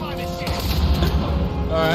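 Rapid gunfire from the stealth action game Hitman during a rampage through Sapienza, a dense continuous burst of shots under a steady wash of game sound, with a person talking over it.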